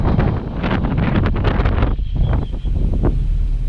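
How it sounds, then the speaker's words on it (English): Steady, loud wind buffeting a microphone on a road near Llano Grande, Rio Negro, Colombia, a continuous low roar with gusty fluctuations throughout. "It's a little windy."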